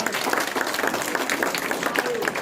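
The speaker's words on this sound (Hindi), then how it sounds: "तालियों से स्वागत करें।" A crowd at the opening of the Shaheen Welfare Trust in Paroha Nagar Palika, Nepal, claps in dense, continuous applause, with some voices mixed in.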